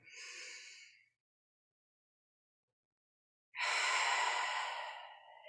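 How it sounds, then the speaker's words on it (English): A deep, slow breath during a breathing exercise, heard up close as two long airy breaths separated by a few seconds of silence. "And I send a deep breath in there."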